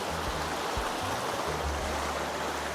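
Shallow stream water rushes steadily around someone wading across it in sandals. The flow is a continuous close, full wash with no clear talking.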